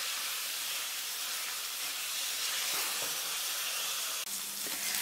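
Diced meat and onions fry in a pan for fried noodles, giving a dense, continuous steamy hiss with faint clatter and a brief break just before the end.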